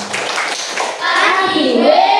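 Elementary school class, fifth grade, clapping together in a rhythmic chant, with children's voices chanting loudly over and between the claps, up close in a classroom.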